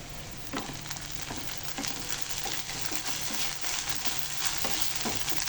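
Ginger-garlic paste frying with already-browned onions in a pan for spicy koi fish curry, a continuous loud sizzle broken by stirring scrapes and taps, with no voices.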